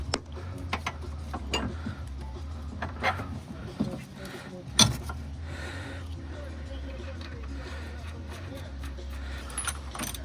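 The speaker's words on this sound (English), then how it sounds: "This is the axle going into the transmission here." A drive axle on a 1982 second-generation Honda Civic wagon being pushed into the transmission, with scattered metallic clicks and scrapes and one sharp snap as the splines seat, nearby in a garage.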